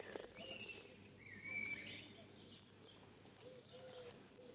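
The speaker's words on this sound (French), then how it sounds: "Le vent se glisse entre les arbres et les oiseaux chantent encore un peu avant la nuit." Birds sing faintly among trees on an evening with a light breeze, with soft cooing and chirps over quiet wind.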